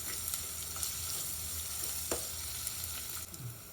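Curry leaves and chopped onions fry in oil for masala dal with a quiet, continuous sizzle, broken by occasional pops and a stirring scrape near the end.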